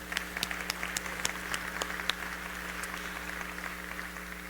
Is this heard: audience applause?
yes